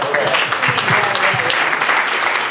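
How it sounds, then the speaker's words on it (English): Short burst of applause from a convention audience during a Monkees fan panel, scattered claps rising and falling over a couple of seconds in a large room. "Round of applause."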